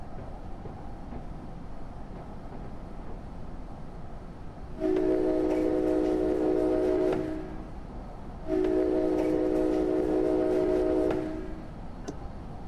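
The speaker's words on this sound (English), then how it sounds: "Bells and whistle." Train horn sounding two long, loud blasts with a steady rail rumble underneath while pulling into Newark Penn Station, bell dings faint in the background.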